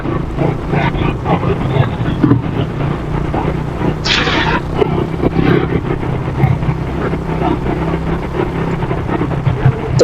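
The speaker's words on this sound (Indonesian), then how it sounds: "Apaan ini, rame banget motor." Many motorbikes pass along a busy street with schoolchildren leaving, a constant loud engine drone and roar with a brief higher whine midway, wind buffeting the microphone.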